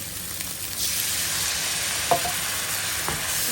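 Steady sizzling of eggplant frying in a pan, with a brief louder hiss as water hits the hot oil, plus a couple of soft clinks.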